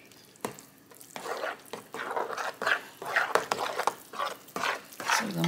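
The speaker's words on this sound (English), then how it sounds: "So we're going to mix it up really well" Chicken dressing seasoned with sage is mixed by hand in a bowl, giving close, repeated scraping and squelching strokes in an uneven rhythm, with no talking.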